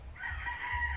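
A rooster crows once in a backyard flock of chickens, a single sustained call at moderate distance lasting about a second.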